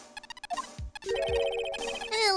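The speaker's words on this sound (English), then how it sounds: "So that noise you heard was this receiver." Electromagnetic receiver in the Phoenix Wright: Ace Attorney – Justice for All video game, giving a quick run of short electronic beeps, then a couple of low thumps and a longer sustained tonal chime, fairly quiet.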